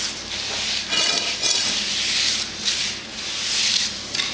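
A trowel scrapes and smooths wet mud over sticks, giving a continuous close rasping rub that swells and eases in long strokes, with no talk.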